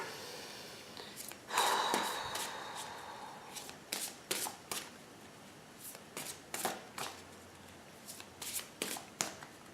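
Tarot cards are shuffled by hand up close, with one long riffle followed by a series of short, crisp bursts at a fairly regular rhythm and quiet gaps between them.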